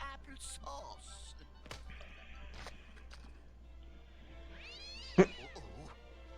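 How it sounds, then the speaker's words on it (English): A cartoon cat meows and caterwauls in a wavering, rising-and-falling yowl, heard among other cartoon sounds and brief voices, with a sharp thwack-like hit cutting in near the end. "That's my cat."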